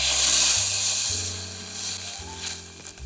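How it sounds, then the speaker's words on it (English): Sliced golden mushrooms in a hot pan hiss loudly as a cup of Bordeaux wine is poured in to deglaze. The sizzle is strongest at first, then settles into a steady bubbling, with a low tonal background underneath. "Deglaze the pan with a cup of Bordeaux."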